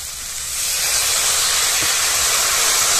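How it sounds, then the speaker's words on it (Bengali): Water poured into a hot pan of sautéed peas: an intense, close hiss of sizzling steam that rises within half a second and roars steadily, with no talking. "মটর কষিয়ে নিয়েছি, দিয়ে দেবো জল।"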